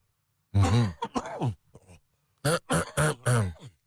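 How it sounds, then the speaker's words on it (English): A person coughs hard in two clusters of rough, chesty bursts, close and loud, separated by a short pause. "just when you think you kicked this cough, and then it just comes right back on"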